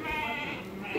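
A single sheep bleats close by in a Turkish livestock fattening barn, a short, wavering, nasal call that fills the whole moment.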